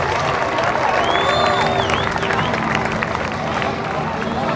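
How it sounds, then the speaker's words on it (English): An airshow crowd at a beach applauds and cheers in a dense, continuous wash of clapping and murmur, with tones of aircraft or announcements faintly threaded through. "how about a nice round of applause for the Geicko Skytypers"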